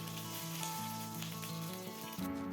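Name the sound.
mustard seeds and dried chilli frying in hot oil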